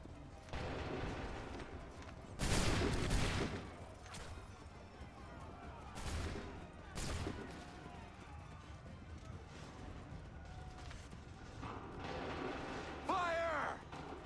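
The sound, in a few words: volley of gunfire in Assassin's Creed III video game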